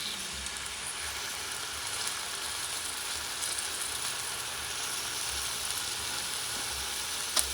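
A very thin steak searing in a hot pan gives off a steady, low, even hiss that carries on throughout with no talking.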